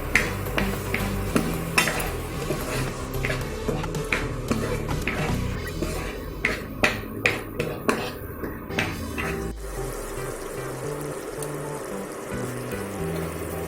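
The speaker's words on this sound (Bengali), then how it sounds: "এই তিনটে মিশ্রণ দিয়ে আমি একটু ভালো করে কষিয়ে নেব।" A spoon scrapes and clinks against a pan while a spice mixture is stirred and sautéed for an egg korma, with repeated rhythmic metallic knocks and a soft sizzle underneath, close and fairly loud.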